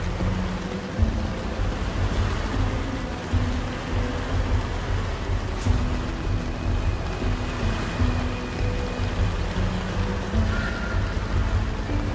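Heavy rain pours on a wet mountain trek in West Sumatra, a loud, steady, unbroken wash of noise with no voices.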